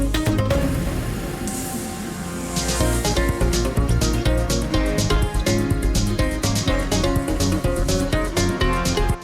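Full-band cover breakdown of a Castlevania track with driving drums and crashes struck on a hanging sheet of metal, loud and dense throughout with no talk.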